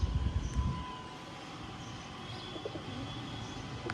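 Pigeons coo softly at a middle distance over a steady background hum, with faint chirps mixed in and no talking.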